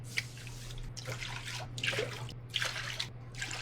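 Water is poured into a pot of yellow corn grits, splashing and trickling in uneven bursts under a steady low hum, fairly quiet and close, with no voices.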